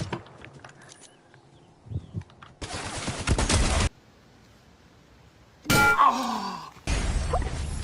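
Rapid gunfire from a rifle in a first-person shooter video game comes in three loud bursts, each a dense rattling volley, separated by quieter stretches with faint clinks.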